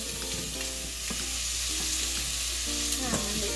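Japanese curry sizzling and frying in a pan while being stirred, a loud, continuous crackling hiss with the scrape of a utensil moving through it.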